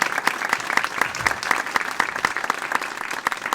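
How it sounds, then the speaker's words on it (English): A town audience at a State of the Town address applauds the police department and its new leadership, a dense, steady round of clapping that fills the room. "I ask that you all join me in giving our police department and new leadership and officers a major round"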